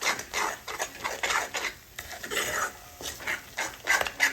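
Green pea masala paste being stirred and roasted in a pan, a repeated scraping and rasping of a spoon against the pan in uneven strokes, close and fairly loud, with faint sizzling underneath.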